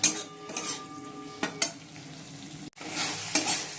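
A spice paste of poppy seed and ground cumin fries in a pan as a spoon scrapes and knocks against the metal in irregular strokes, with a soft sizzle underneath and a short break before the stirring resumes.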